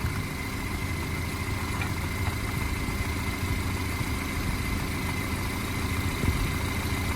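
A 2016-2020 Chevrolet Camaro engine idles steadily during a coolant refill, a constant, even low rumble with a faint mechanical whir, close by and alone without any talk.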